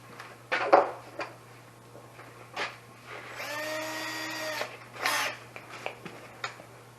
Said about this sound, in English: Drill the other 2 holes here.